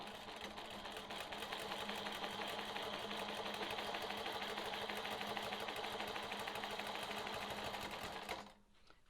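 A sewing machine quilts a straight line across a quilt, running continuously for about eight seconds at an even pace, faint and close with no talk, then stopping abruptly.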